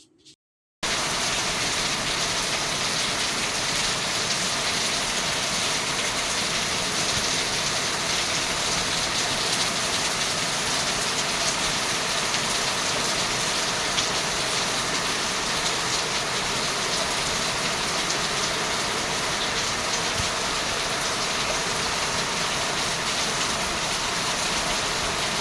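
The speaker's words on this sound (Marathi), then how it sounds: "या वर्षाचा पहिला पाऊस चालू झाला" First rain of the year falling in Uran before the monsoon, a steady, even hiss of rainfall that continues unbroken for the whole stretch with no voices.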